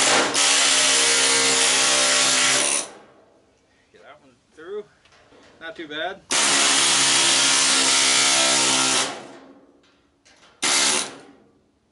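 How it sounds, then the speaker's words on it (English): An air chisel cuts the metal housing of a scrapped clothes dryer in two long, loud, harsh chattering bursts and a shorter third, with someone speaking briefly between them. "see if I can just cut it with the air chisel"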